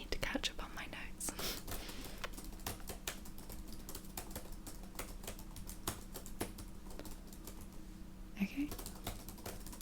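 Steady computer-keyboard typing of notes in a soft-spoken dermatologist roleplay, with rapid light clicks running throughout, close and quiet, while a voice whispers briefly.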